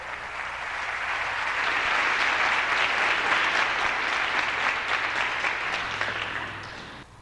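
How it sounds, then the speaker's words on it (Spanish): Church congregation applauding in praise of the Lord during a Spanish-language sermon, a dense, sustained wash of clapping that holds steady for several seconds before tapering off at the end. "Denle un aplauso al Señor entonces."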